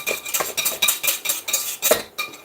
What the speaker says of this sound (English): we're going to use a strainer and we're just going to pass it through